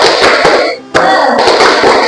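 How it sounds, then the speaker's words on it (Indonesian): A class of students does a rhythmic 'tepuk semangat' clapping chant, loud and close, with quick patterned hand claps, a short pause midway, then more clapping. "Yuk, 1 2 3 tepuk semangat"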